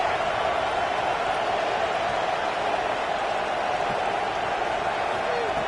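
Stadium crowd cheering on third down in an American football video game, a dense steady roar of many voices, loud and continuous, with commentary voices underneath.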